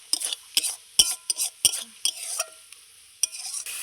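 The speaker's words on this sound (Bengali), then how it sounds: "আমার কচুর শাকটা হয়ে গেছে, আমি একটা পাত্রের মধ্যে তুলে নিচ্ছি" Cooked taro greens scooped from a pan into a bowl, with a series of sharp spoon-on-metal scrapes and clinks in an irregular rhythm, close and fairly crisp.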